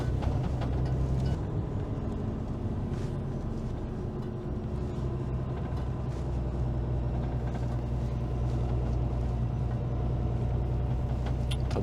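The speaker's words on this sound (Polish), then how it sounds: "Nawet się zbiera to auto" A truck with a walking floor trailer drives along a snowy forest road in winter, a steady loud low engine and road rumble from inside the cab with occasional knocks and rattles.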